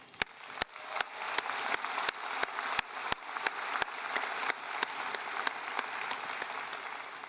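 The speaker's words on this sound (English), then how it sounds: "Even my little friend over there is clapping very vigorously." Enthusiastic graduation ceremony audience applause, dense and sustained, with sharp individual claps popping out near the front at a fairly steady rhythm.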